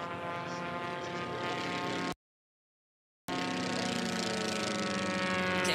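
A Formula One racing airplane in the Silver race at the 2018 Reno Air Races roars past the home pylon, its propeller engine a loud, sustained buzzing drone that briefly cuts out before resuming.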